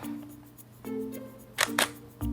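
SLR camera with a 50mm lens firing its shutter at 1/6 second, two sharp mechanical clicks close together near the end after softer handling sounds, close and fairly quiet, no talk.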